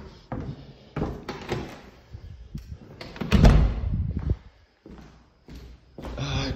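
A door in a house in Monson is opened and shut, with several knocks, scrapes and heavy thuds in uneven bursts, footsteps moving about, and someone talking briefly.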